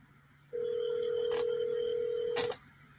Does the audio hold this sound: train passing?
no